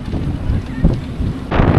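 Strong gusts of wind buffet the microphone outdoors at a scenic spot near Kanyam, Nepal, a steady loud rumble that swells briefly near the middle and surges harder toward the end.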